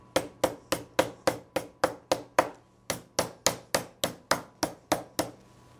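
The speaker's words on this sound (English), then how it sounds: "we'll flatten them out with a tenderizer and pounder" Conch meat pounded flat with a meat tenderizer mallet, about seventeen sharp, even thuds in a steady rhythm, close and loud with no voices.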